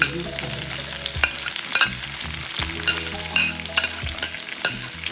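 Onions fry in a hot pan for a saltfish and fried bammy dish, a steady loud sizzle broken by clattering stirs and scraping utensil knocks, with no voices.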